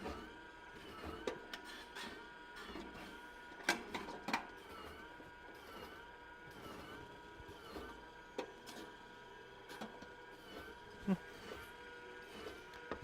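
Skywalker V1 coffee roaster drum turning with a bean stuck inside, giving a faint, continuous mechanical whir marked by irregular scraping clicks and knocks throughout.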